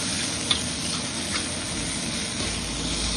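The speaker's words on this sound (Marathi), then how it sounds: "कट केलेलं टोमॅटो घालायचं. ह्याला पण चांगलं परतून घ्यायचं." Onion, garlic and chopped tomato sauté in a pan with a soft, continuous sizzle, and a couple of faint utensil taps stand out against it.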